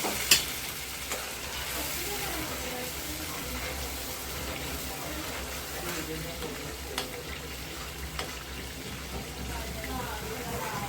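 Roasted ground masala dropped into hot oil for dry chicken fry, giving a continuous, even close sizzle throughout with occasional sharp clicks of a spoon against the pan.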